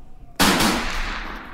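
Rifle gunfire from the Army Men video game bursts out suddenly after a quiet moment: a loud sharp volley of shots followed by a ringing, fading tail.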